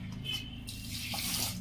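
Water is poured from a glass into a pot of rice and moong dal for Rayalaseema-style pulagam, a faint splashing stream that swells briefly.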